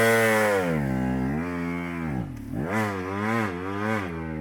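A dirt bike's engine revs hard and rises and falls in pitch as it works up a steep incline during basic enduro practice, with the clutch slipping and the engine loud and close.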